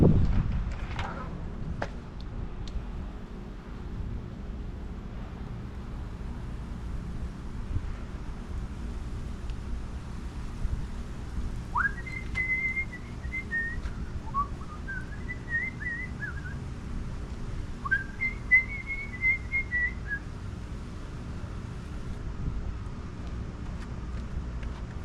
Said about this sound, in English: it's windy and cold out here